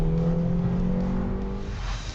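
A Honda Civic engine drones loud and close as it accelerates under hard throttle, a sustained, slightly fading revving note with no voices.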